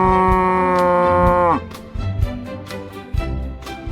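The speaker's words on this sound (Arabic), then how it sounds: "نعم، إنها البقرة." A cow gives a single long, sustained moo that cuts off after about a second and a half, followed by quieter, lighter background sounds.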